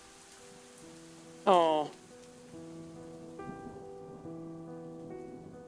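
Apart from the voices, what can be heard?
rain falling, from a video game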